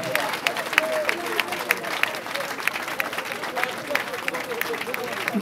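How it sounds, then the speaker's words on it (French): Mourners at an artist's funeral ceremony applaud in steady, dense clapping that continues throughout, mixed with crowd murmur and voices. "un peu applaudi très très fort pour Naomi Kipolo."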